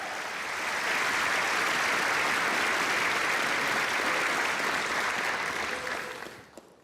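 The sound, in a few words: convocation audience applause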